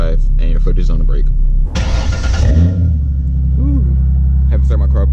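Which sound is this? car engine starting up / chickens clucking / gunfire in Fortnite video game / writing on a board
car engine starting up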